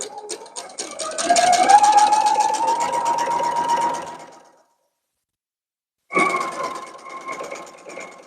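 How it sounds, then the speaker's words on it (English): Sewing machine stitching down a folded fabric edge on a cosplay cape with a fur collar, a loud close rapid mechanical whir that runs for several seconds, stops, then starts again. "We're just going to stitch this down."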